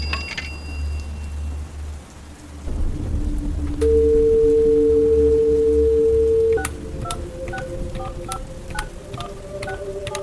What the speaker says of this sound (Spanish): corrió a un teléfono de monedas